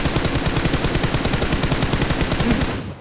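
Rapid automatic gunfire from a shooter video game, a dense, steady burst of loud shots running continuously for about three seconds before cutting off.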